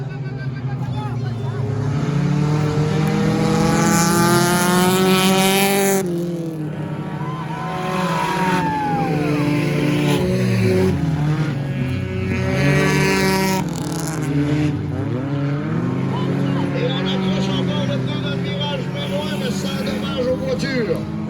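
Stock cars in an enduro race at New Richmond roar past in waves of revving engines, loud and sustained, with a French-speaking announcer talking over the racing.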